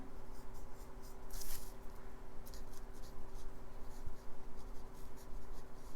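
Graphite pencil sketching on paper while roughing in the eyes of a Captain America portrait: a continuous, close, scratchy rasp of strokes with brief pauses and no talk.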